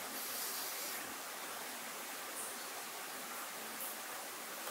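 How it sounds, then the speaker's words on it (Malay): Water is poured steadily onto coffee, a continuous hissing stream close by and fairly loud, without pause, for kopi susu Pak Ali. "Dia tuang air kat kopi."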